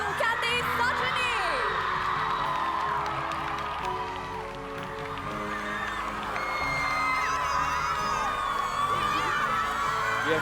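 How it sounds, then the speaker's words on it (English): A large crowd at a school pentathlon grand finale cheers and whoops with scattered applause, a sustained, lively roar of many voices that swells and stays loud throughout. "Let's now hear a huge round of applause for the pentathlete of the day"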